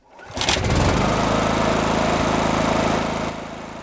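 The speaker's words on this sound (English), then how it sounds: "I found this sample of, I think it's like a tractor or something." A small tractor or lawn mower engine sputters to life and runs at a steady, loud, rattling drone before easing off.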